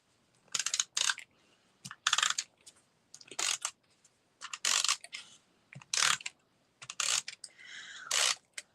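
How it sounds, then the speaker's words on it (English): A double-sided tape runner pulled across card stock in a series of short, crisp ratcheting strokes with brief pauses between them, close and clear, with no talking. "we're just going to use my double-sided tape or my tape runner."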